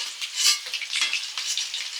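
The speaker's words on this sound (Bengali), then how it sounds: "চিলি চিকেনে চিকেনগুলো সব ভাজা হয়ে গেল পরপর তুলে নিচ্ছি" Chicken pieces for chili chicken fry in hot oil with a steady, bright sizzle and crackle, swelling and easing over two seconds with faint clinks of utensils.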